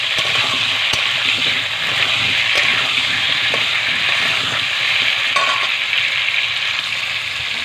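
Potatoes fry with salt in a pan over an earthen clay stove, making a loud, steady hiss with occasional stirring clicks close up and no speech.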